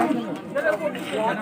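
On a comedy stage, a voice mimics a crow cawing in a short run of harsh, nasal vocal calls, close and fairly loud.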